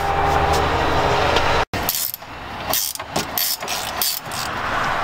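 Mechanics work on a Corvette's front suspension, pulling the tie rod end bolt and upper and lower ball joint bolts to free the knuckle: a steady loud whirring power-tool drone, a brief cut-off, then choppy bursts of tool noise and clanks.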